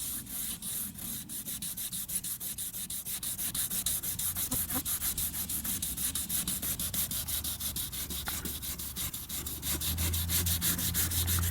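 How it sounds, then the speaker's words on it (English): Sandpaper of 180 grit rasps steadily across a car body panel outdoors, a continuous close scratchy rubbing with a fast back-and-forth rhythm that barely lets up for the whole stretch. "Hit it with some 180 grit."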